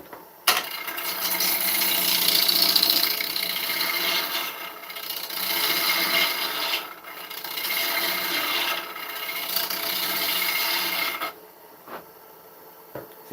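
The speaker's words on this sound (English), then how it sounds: "See how oak cuts a lot easier than ash, you know, a lot easier." A tool scrapes and rasps steadily against an oak dish spinning on a woodturning lathe, a continuous cutting hiss broken by a few short pauses before it stops near the end.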